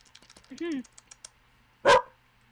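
A person barks like a dog, imitating it with their voice: a short yelping vocal burst, then a second louder, harsher bark a moment later, close and clear over faint tapping in a quiet room.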